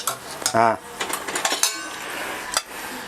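Eggs are beaten with a utensil clinking against a bowl in a home kitchen while braised pork belly with tofu is being made. Quick, sharp taps repeat close up, with a brief voice near the start.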